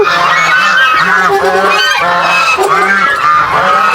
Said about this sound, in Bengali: ও কত পাখি, হাঁস চলে আসছে দেখেন।